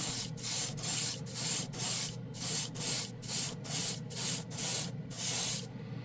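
Airbrush spraying Sunburst Orange paint in about eleven rhythmic bursts of steady airy hiss, each lasting roughly a third of a second with short pauses between, close and alone.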